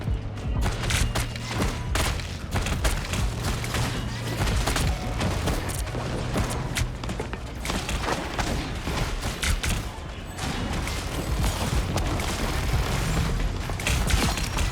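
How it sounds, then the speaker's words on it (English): Dense in-game gunfire and booming blasts fill the whole stretch of a Marvel Rivals match, a continuous loud barrage of thuds and shots with faint voices underneath. "Exploded."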